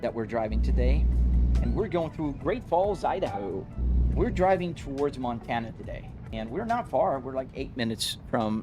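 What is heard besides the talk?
No distinct noise like a dog, phone or traffic.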